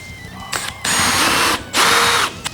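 Power drill boring a bolt hole in a woodworking shop, close by, with two sustained whining bursts of drilling between short start-and-stop spurts of the motor.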